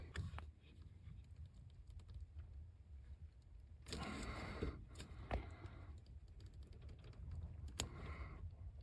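Hose removal pliers squeezed to force a hose off the inline transmission filter on a 2006-2011 eighth-generation Honda Civic, giving close, faint clicks and scrapes with a brief louder burst of handling noise partway through, no talk.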